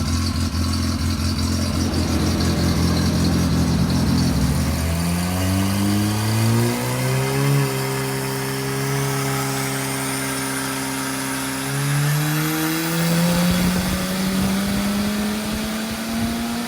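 A stock 1.6 litre Holden Gemini G161 engine running on methanol through a truck exhaust revs up loudly from a rough idle, its drone climbing in pitch and holding high before dropping back, close and continuous with no talking.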